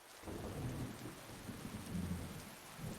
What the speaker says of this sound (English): That thunder scared me.